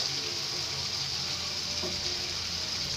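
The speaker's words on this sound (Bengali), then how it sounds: "আমার যে পেঁয়াজটা মরিচ ধনে পাতা যে একসাথে আমি ভেজে নিচ্ছি" Onion, chili and coriander leaves fry together in a pan, giving off a continuous, even hiss of moderate loudness that carries on without a break.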